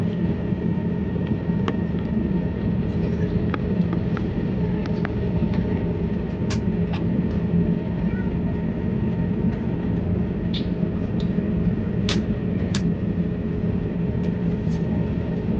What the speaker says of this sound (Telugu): ఇంజన్ సౌండ్ అనుకుంటే గట్టిగా వస్తుంది సౌండ్ అయితే మాత్రం బాగా లోపల ఉన్నా కానీ